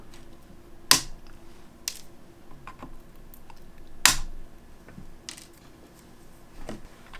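Wire cutters clip soldered component leads on a circuit board: two sharp, loud snips a few seconds apart, with fainter clicks and handling noise around them.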